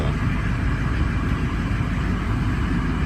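A cold-started engine idles steadily in a garage with an exhaust hose run outside, a constant low rumble with a smooth, even drone, close and unbroken for the whole stretch.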